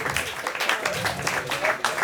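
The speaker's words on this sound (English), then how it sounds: "Can we just give a bit of like hand clap?" An audience claps by hand at a comedy show. The applause is steady and moderately loud and runs under a voice throughout.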